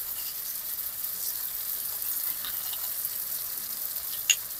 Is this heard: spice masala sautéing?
yes